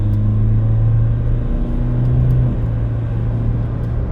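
Steady, loud diesel engine drone with low rumble as a 2025 Ford Ranger Wildtrak 2.0 twin-turbo diesel automatic pickup drives along, a slight shift in pitch midway, no talking.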